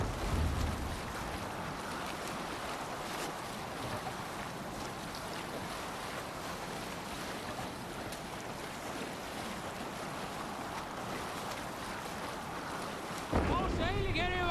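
Sailing ship under way in Assassin's Creed Valhalla, with a steady wash of waves and wind rushing against the hull and sail, broken near the end by a sharp thump and brief chatter.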